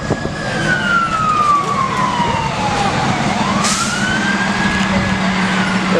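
A fire truck siren wails, rising and falling in long sweeps, as the trucks pull in at the opening of a fire station on Route 66 in Baxter Springs. A steady engine rumble sits underneath and the sound stays loud throughout, with no talk.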